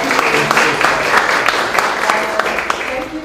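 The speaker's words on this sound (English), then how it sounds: "Please welcome her with a clap for that." At an academic talk on gender and beauty, an audience claps to welcome a speaker, a brisk, close burst of many hands with distinct individual claps, lasting a few seconds, with a voice faintly underneath.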